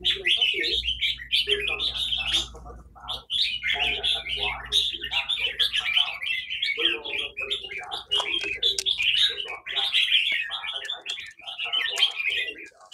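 Red-whiskered bulbuls sing in a steady, busy stream of bright chirps and warbled phrases, close and continuous, with quiet voices in the background.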